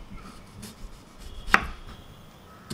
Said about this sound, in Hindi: यहाँ पर 2 प्याज ली है, उसे भी हम कट करेंगे। तो पहले हम स्लाइस कर लेते हैं।